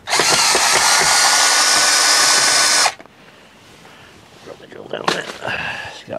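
A cordless power drill backs a screw out of a shelf inside a garden polytunnel, whirring loudly and steadily for about three seconds before stopping abruptly, followed by quieter handling clatter and a brief voice.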